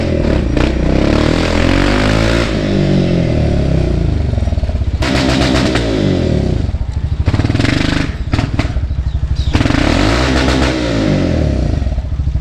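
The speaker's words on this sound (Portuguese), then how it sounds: "Tome corte de giro." A car engine is revved hard and held against the rev limiter, its loud buzzing drone broken into rapid stuttering cuts, in several bursts separated by short drops in revs.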